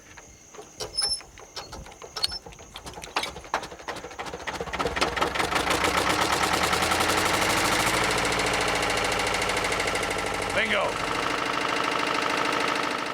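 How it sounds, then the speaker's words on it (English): A diesel engine runs in a remote rural part of Zimbabwe, starting with uneven knocking beats and then settling into a loud, steady chugging idle, with a voice heard briefly early on. "Here, in one of the remotest parts of Zimbabwe, the diesel engine efficiently generates all sorts of energy."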